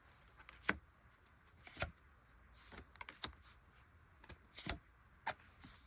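Tarot cards shuffled and drawn by hand: a series of sharp, separate card snaps and flicks, spaced irregularly over quiet background, close and fairly soft, with no talking.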